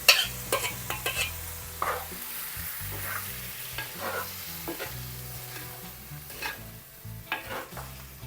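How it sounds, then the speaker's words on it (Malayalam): Roasted coconut paste is stirred into a hot frying pan for a prawn theeyal, with a soft sizzle under repeated scraping strokes of a spoon against the pan, close and unhurried. "തേങ്ങ വറുത്ത ആ അരപ്പ് ഇതിനകത്തോട്ട് ഇട്ട് കൊടുക്കാം"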